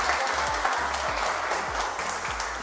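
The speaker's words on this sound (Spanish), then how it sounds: "Un aplauso" An audience at a family magic show applauds, giving thick, continuous clapping at fairly loud, even volume with a faint low rhythmic thump underneath.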